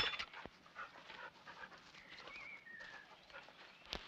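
Dogs panting in a 1964 crime drama, quick rhythmic breaths close by over a soft background, with a brief whistle-like tone and a couple of sharp clicks, no speech.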